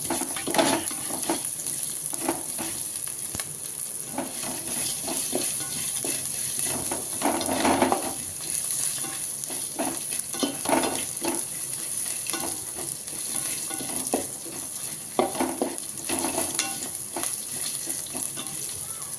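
Grated coconut shallow frying in oil for sambar, a steady close sizzle running throughout with repeated soft scraping stirs of a spatula, one sharper clack near the end, no voices.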